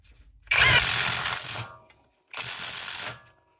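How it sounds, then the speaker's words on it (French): Impact wrench working on the front suspension of a Renault Scenic 4, two loud close bursts of rapid rattling hammering, the first about a second long and the second shorter after a brief pause. "Et là, on cale à la déboulonneuse."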